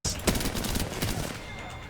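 Gunfire in a multiplayer shooter video game during a fight involving a Gibraltar character: loud, dense, rapid bursts of shots packed closely together with little pause across the whole stretch.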